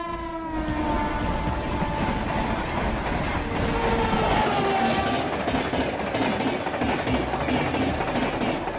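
A train rolls along railway tracks with a continuous rumbling roar and a long horn blast drifting across the first half, loud and sustained throughout.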